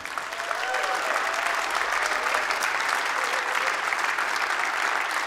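Large crowd applauds a saxophonist at a live jazz festival concert, steady dense clapping that swells quickly and holds evenly, with a faint voice and some instrument tones blending in underneath.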